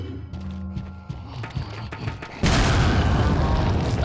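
A grenade blast in the video game Resident Evil 4 cuts in abruptly after scattered thuds and game effects, a loud booming burst followed by a sustained rumbling roar to the end.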